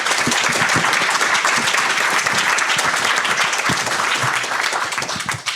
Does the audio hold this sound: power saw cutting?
no